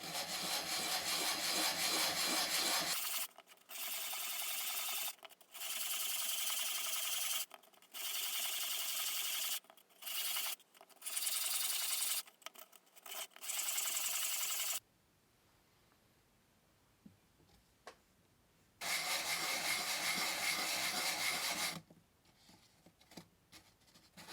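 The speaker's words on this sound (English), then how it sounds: "go ahead and sand each one of those surfaces down" A wooden skinned frame is sanded by hand in rhythmic, raspy strokes close by, coming in bursts of a second or two with pauses, a quieter stretch, then another run of scrubbing.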